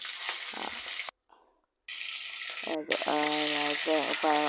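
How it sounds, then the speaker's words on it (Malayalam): Green chillies and drumstick pieces sautéing in a pan: a bright sizzle that cuts out for a moment, then resumes louder, with a voice joining in toward the end. "ഇതിനകത്ത് പച്ചമുളകും മുരിങ്ങയ്ക്കയും കൂടി ചേർത്ത് നമുക്ക് വഴറ്റിയെടുക്കാം"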